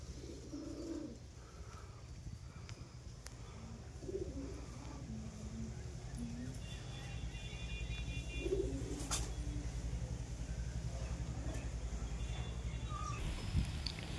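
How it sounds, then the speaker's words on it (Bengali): Male pigeons, including white-and-green birds, coo in soft, repeated low throaty rolls, joined by occasional faint chirps over a steady background hum. "এটা আছে নর, সাদা সবুজ নর কবুতর।"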